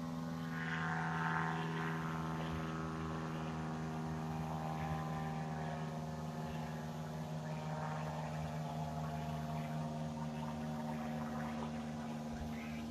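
A shabby, low-flying surveillance plane passes overhead, its steady propeller-engine drone continuous and fairly distant, holding an even level throughout with a faint wind-like hiss and no talking.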